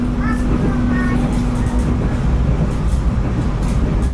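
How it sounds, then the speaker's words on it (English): Steady rumble of the Ijen Express rolling across Java toward Banyuwangi, heard from inside a carriage as continuous rail noise with a low hum, faint squeals and distant voices mixed in. "I'm currently riding an express train that left from Malang this morning"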